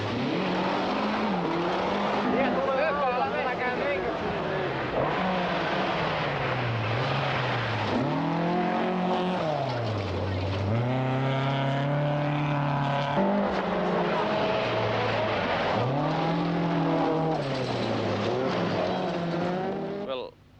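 Rally cars howl through the 1982 Rally of the 1000 Lakes in heavy rain, their engine notes rising and dropping as they shift gears, with a commentator talking over the racing throughout.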